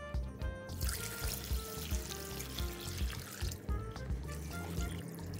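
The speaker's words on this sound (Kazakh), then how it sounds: "Міне салқын су құйып қойдым" Cold water pours steadily into a bowl, a continuous splashing stream with bright trickling texture, close and fairly loud throughout.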